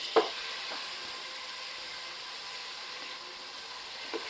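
Tomatoes frying in oil for Ambur chicken biryani, cooked in a pressure cooker, give a steady hiss of sizzling. There is one clear clink at the start and a faint tap near the end.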